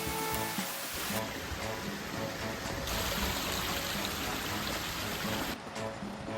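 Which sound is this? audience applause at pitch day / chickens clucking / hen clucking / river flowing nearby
river flowing nearby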